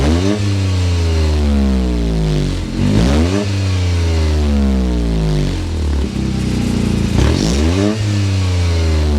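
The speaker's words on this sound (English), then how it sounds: "start it up, so you can hear that exhaust note." A Toyota GR Corolla Circuit Edition engine revs repeatedly through its exhaust, the pitch rising and falling in several loud swells over a steady running drone, heard close up with no talking.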